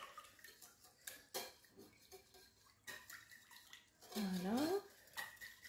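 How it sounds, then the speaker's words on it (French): Spices including paprika being stirred into a mixing bowl, with clinks and scrapes of a spoon against the bowl in short bursts and a brief louder scraping swirl near the end, fairly close; a voice speaks briefly. "on mélange un petit peu nos épices"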